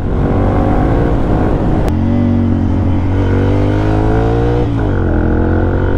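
A 2014 Ducati Monster 696 motorcycle engine hums steadily and loudly while riding, its pitch dropping and climbing through gear changes, with a brief click near the two-second mark.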